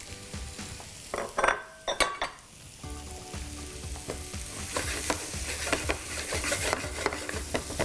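Spiced potatoes with masala fry in a pan, a steady sizzle broken by loud scraping stirs and spoon knocks against the metal, close up and without talking.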